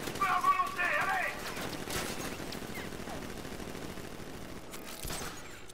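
Gunfire breaks out during a militia ambush in Batman: Arkham Knight. Rapid shots form a dense, steady crackle, and game voices are heard over the firing.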